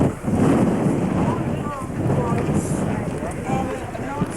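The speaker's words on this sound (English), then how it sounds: "It's windy, cold." Strong wind gusts across the microphone at the Parthenon in Athens on a cold day, a loud continuous roar with faint voices underneath.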